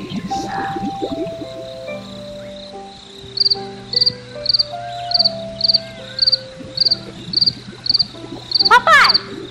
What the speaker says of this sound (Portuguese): É o som dos grilos grilando